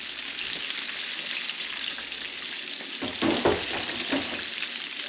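Chicken frying in oil at home, a steady loud sizzle throughout with a few brief stirring or shifting sounds partway through, no voices.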